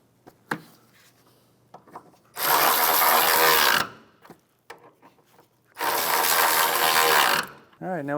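Ratchet wrench spinning out the inner 12mm radiator bolts on a 2011-2016 Hyundai Elantra, two long bursts of rapid, loud clicking separated by quieter taps and handling noises.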